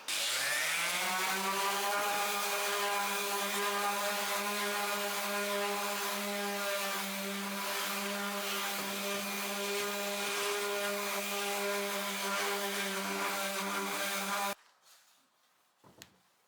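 A power sander sanding a wooden coffee table drones steadily and loudly for about fourteen seconds, a constant buzzing whine, then cuts off, leaving faint handling noises.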